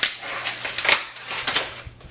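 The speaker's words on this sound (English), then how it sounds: "you will just start cutting your egg carton" Scissors snipping through a cardboard egg carton, a close, crunchy run of irregular cuts and crackles with no talking.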